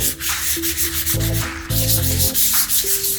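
Wood for a compact glass-topped side table is sanded by hand with 300-grit sandpaper, a close rhythmic back-and-forth rubbing in quick strokes with no talk.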